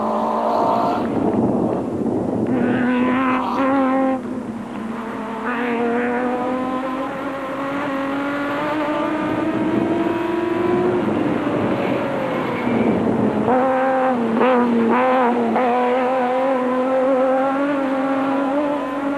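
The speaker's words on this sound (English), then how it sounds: "Mafikeng and Carolyn were also closing in fast in the total Jimco, while Woolwich and Scholthammer had gained a number of positions and were starting to hunt down the leading Nissan" Off-road race cars, including a Nissan and a Jimco, in the 2004 Mafikeng 400, engines revving and shifting through gears loudly and close, with pitch climbing and dropping across several passes.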